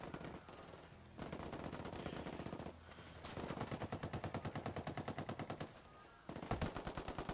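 Gunfire in Ghost Recon Wildlands rings out as repeated rapid automatic bursts, dense and continuous with brief pauses between volleys, fairly loud against the game's ambient background.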